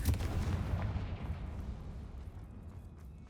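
A Confringo fire spell blast in the video game Hogwarts Legacy: a loud, deep booming burst at the start that rolls into a fading rumble, with no talk.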